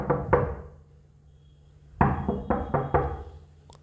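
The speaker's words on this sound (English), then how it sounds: "So suddenly they hear a knock on the door." Knocking on a door: two quick raps, a pause, then a run of four or five firm knocks, close and clear with no voices.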